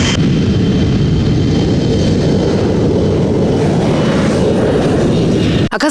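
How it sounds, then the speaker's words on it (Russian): An airplane takes off from the runway at Krasnoyarsk airport a few metres away. A loud, steady broadband engine roar fills the whole stretch and breaks off abruptly at the end. "где в нескольких метрах от нас можно увидеть,"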